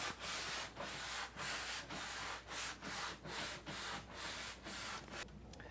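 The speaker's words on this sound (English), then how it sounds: "I was using the 80 grit coarse block" A coarse 80-grit hand sanding block rubs back and forth across wood in about a dozen steady, even strokes, close and fairly quiet, with no talk.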